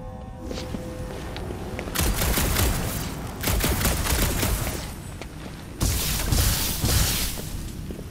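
Magic guns fire in Marvel's Guardians of the Galaxy game combat, with loud bursts of rapid shots coming in several waves between quieter stretches of footsteps and action noise.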